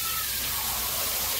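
Water is poured into a hot cooking pan during Mangalorean-style home cooking, giving a brief, even rushing hiss at close range that lasts only a moment.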